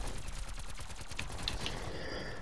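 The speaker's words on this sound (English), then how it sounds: "I hear all the explosions going off on the other side of the map" Video-game battle with rapid gunfire and explosions: dense, continuous bursts of shots rattling throughout, loud and busy, with a few sharp metallic pings near the end.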